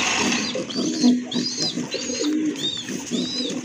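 Pigeons, a bright red pair kept with eggs at a seller's loft, coo repeatedly and close by in a steady rhythm over the whole stretch, with no voices.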